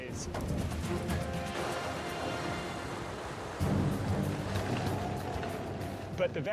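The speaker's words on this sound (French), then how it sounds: "Il pleut très fort et l'eau s'engouffre dans les vallées arides." Heavy rain pours down in a steady, dense roar, with low thunder rumbling through it and swelling louder partway along.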